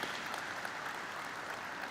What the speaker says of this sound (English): Let's hear a nice big round of applause,